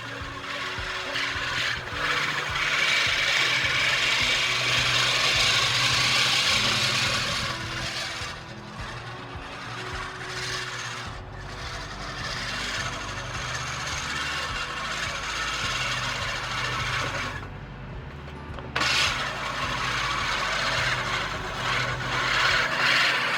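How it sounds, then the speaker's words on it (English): A manual push reel mower cuts overgrown backyard grass on a sunny late-summer day, giving a steady, near whirring rasp of spinning blades with brief pauses between passes. "I really love this push mower."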